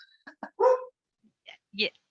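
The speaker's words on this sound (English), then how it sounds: "now the dog's barking here" A dog barks in the background during an online meeting, giving a few short, fairly faint yips and barks spaced across a couple of seconds, with no talk over them.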